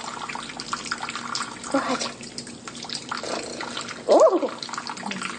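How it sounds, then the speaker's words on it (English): Water splashes into a backyard bird bath, pooling as it runs, with a steady wash of flow and a louder splashy burst near the end, while people talk nearby. "And make a little pool. Makes more water noises."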